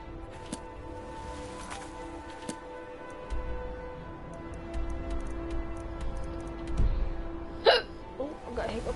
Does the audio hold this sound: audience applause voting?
no